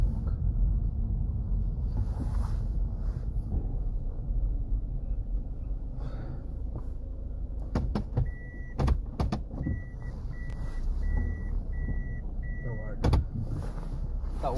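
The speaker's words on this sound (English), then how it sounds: "That was a sound from the car, you know, reversing." A car's reversing alert beeps in a regular series of short tones while the vehicle manoeuvres to park, with a few sharp clicks and low road and engine rumble underneath.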